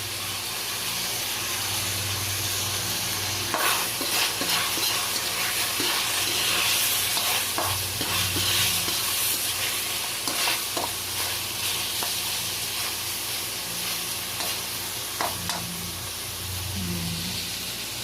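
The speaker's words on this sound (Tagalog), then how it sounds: "Igigisa mo muna yung pork" Pork sizzles and fries in a hot pan, a steady loud hiss broken by repeated scrapes and clacks of stirring, close by, with no voices.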